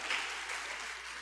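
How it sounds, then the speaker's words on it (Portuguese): A church congregation claps together in sustained, lively applause that fills the room with a dense, even patter, without speech over it. "Pode aplaudir Jesus bem forte."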